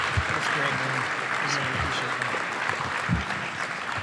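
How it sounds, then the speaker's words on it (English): Audience applause at a live summer event fills the room with steady, dense clapping for a former basketball player, holding at an even level throughout with no voices rising above it. "Ladies and gentlemen, one last round of applause for our new friend, LaPhonso Ellis."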